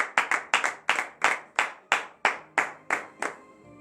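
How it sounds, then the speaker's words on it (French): A church congregation at morning prayer claps in about ten sharp, evenly spaced beats, loud and close, with the sound fading out at the end. "Donnez de vives acclamations."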